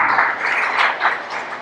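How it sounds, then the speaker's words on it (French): An audience in a hall applauds at a conference given by professor Hérold Toussaint at the Michel Soukar hall, a steady wash of clapping that continues without a break. "Un gros applaudissement pour le professeur de"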